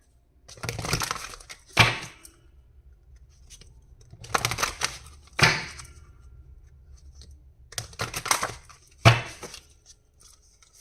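Tarot cards being drawn from a deck, heard as brisk papery shuffles and snaps in four separate bursts, each ending in a sharper slap, with near silence between them.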